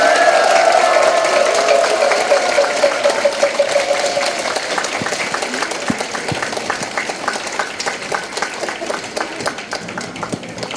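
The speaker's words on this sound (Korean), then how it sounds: "큰 박수 한번 부탁드립니다" An audience at a Buddhist temple applauds after a dharma talk, the clapping dense at first and then thinning into scattered individual claps, with a voice heard faintly over the start.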